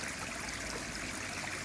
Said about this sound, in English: Waterfall's running.